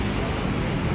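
Dense street traffic full of motorcycles makes a constant rumbling, buzzing wash of engines, close and steady for a brief moment.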